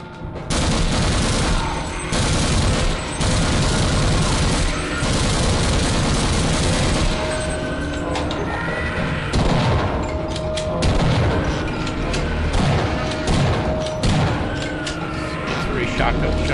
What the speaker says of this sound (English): Three shotgun shots to kill these guys up close